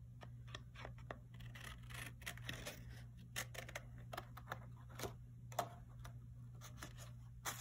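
Scissors cut a paper tree shape with quick, faint snips and scratchy clicks in an irregular rhythm, close up over a steady low hum.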